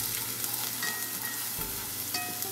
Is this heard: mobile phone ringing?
no